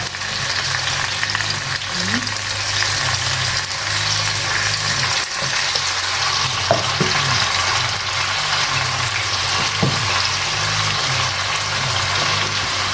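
Pressure-cooked chicken, cooked to two whistles, roasting in masala in a pan: a steady broadband sizzle runs throughout, with occasional scrapes and clinks of stirring, close and fairly loud, no talk.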